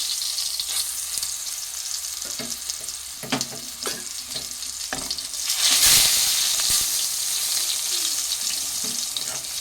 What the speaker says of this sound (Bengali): এবার আমি বেগুন ভাজা বসিয়ে দিচ্ছি।